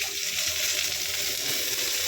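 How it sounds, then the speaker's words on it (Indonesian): Chicken meat fries in a pan with a dense, steady sizzle that stays loud and even throughout. "aku goreng daging ayam ya guys ya"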